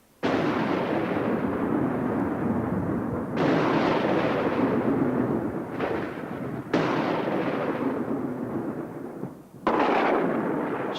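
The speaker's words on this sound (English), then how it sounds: "Storms like this and the fires ignited by lightning must have been terrifying." Thunder from a violent storm rolls in heavy broadband booms that start abruptly and decay slowly, several crashes in succession and loud throughout.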